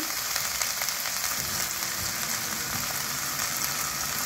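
Ginger sizzles steadily in a hot pan after a splash of water goes in, giving a dense, even hiss close by with no talking.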